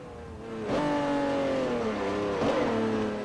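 A mid-engine Acura NSX is driven in the racing game Forza Motosport 4. Its engine revs climb in pitch, drop sharply at a gear change, then climb and shift again, loud and continuous.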